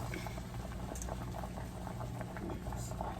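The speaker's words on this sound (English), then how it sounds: "Give that a couple of minutes to boil." Water boiling hard in a pot for a seafood boil, a steady close bubbling and churning rumble throughout.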